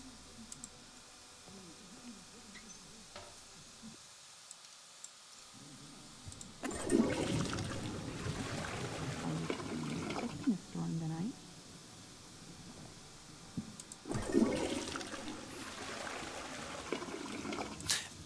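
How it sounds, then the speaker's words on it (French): Toilet flushing in a video game: two loud rushing bursts of water, one at mid-clip and another near the end, each swirling down to a trickle, with faint background ambience between them. "on l'a jeté dans les toilettes et qu'on a tiré la chasse"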